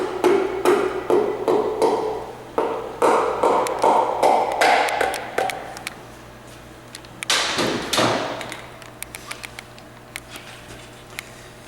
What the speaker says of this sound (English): we just tap it in